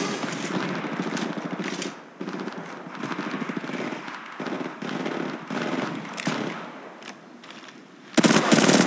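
Automatic gunfire in the video game Apex Legends: long, loud, rapid bursts broken by short gaps, ending in a sharper, louder volley.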